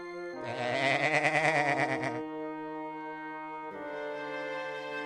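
A single long, quavering goat bleat rings out clearly over a sustained background tone, which continues after the cry stops.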